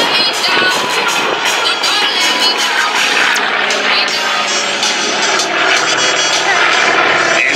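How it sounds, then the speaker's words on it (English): A Douglas Skyraider propeller airplane passing at an air show, a loud, continuous broadband engine and propeller roar with a crowd faintly beneath and announcer speech over it. "the Heinemann airplane that could carry its own weight in armament, the Douglas Sky Raider."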